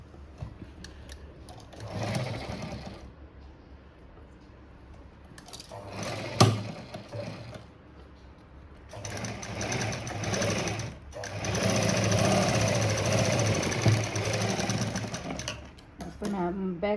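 Sewing machine stitching a tuck on the back of a boat-neck blouse, several rapid running bursts of varying length, close and steady, with someone talking quietly in the pauses.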